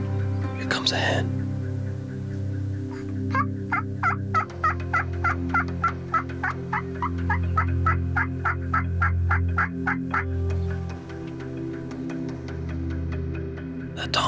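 Wild turkey tom gobbling near hens in the woods, a rapid rattling run of gobbles in the middle with an earlier call, heard at a moderate distance alongside hushed whispering.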